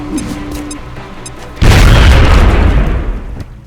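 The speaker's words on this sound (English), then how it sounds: "Throwing grenade!" A grenade explodes in the video game XCOM: Enemy Unknown, a sudden loud booming blast midway that rumbles and slowly decays, preceded by quieter game sounds.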